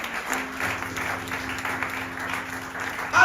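A church congregation applauds God during a French-language sermon, producing a steady patter of clapping from many hands that carries on evenly for a few seconds in a reverberant room.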